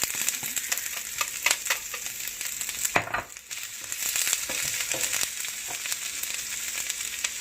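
Asparagus and snow peas stir-fried in a hot pan for vegetarian fried rice, a steady close sizzle broken by scraping stirs and spatula knocks, with no one talking.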